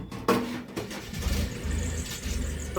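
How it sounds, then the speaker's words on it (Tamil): A 3000W BLDC solar water pump motor switching on, with a low steady hum rising under a broad rushing noise, loud and close. "மோட்டார் ஆன் பண்ணலாம்"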